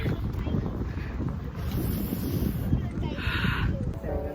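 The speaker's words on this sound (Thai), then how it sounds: "ลมแรงมากๆทุกคน" Strong wind on Phu Kradueng mountain buffets the microphone with a constant low roar and gusty rumbling, while a voice speaks faintly beneath it.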